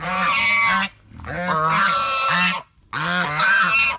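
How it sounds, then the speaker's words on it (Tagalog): Loud, close goose honking comes in three bursts separated by brief pauses, each a run of harsh, nasal calls. "Ito yung alaga kong gansa mga kasinag"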